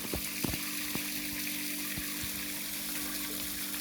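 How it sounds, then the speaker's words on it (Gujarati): Water flows and trickles out from the steps of a stone stepwell at a temple in Kutch, a faint, steady watery wash with a low hum and a few soft splashy ticks. "પગથિયામાંથી પાણી આવે છે"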